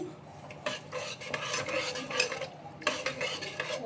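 A spoon stirring tomato bath mixture in a cooking pot, soft scraping and clinking strokes in irregular bursts, fairly quiet and close.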